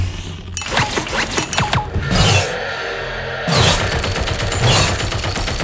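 Turrets firing in Deceive Inc, clattering bursts of rapid shots with mechanical clicks and impacts, broken by a short quieter stretch before another loud volley, close and busy.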